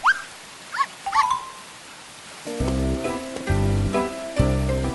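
A dog gives a few short, high whimpering yelps near the start, and light cartoon-style music follows in a children's story about a rainy day.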